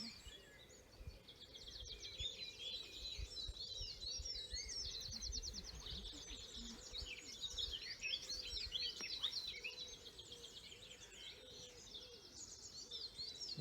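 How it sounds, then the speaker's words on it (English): A wood pigeon coos faintly in the distance amid a busy April dawn chorus, the soft low calls set under a steady layer of high chirping and trilling birdsong, with no talking. "you can hear a wood pigeon in the distance as well"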